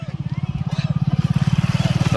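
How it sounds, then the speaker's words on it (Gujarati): A motor scooter's engine putters in a steady, rapid rhythm on a road through dense forest near an ashram in Junagadh. The engine is close and prominent, and a person speaks faintly over it. "આ લોકો સ્કૂટર લઈને જાય છે"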